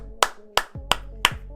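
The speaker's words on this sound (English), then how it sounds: "you got to give EV Gamer a round of applause." A few sharp hand claps, four evenly spaced slaps over a low steady hum, close and fairly loud, from a streamer at a Pokemon TCG Pocket session.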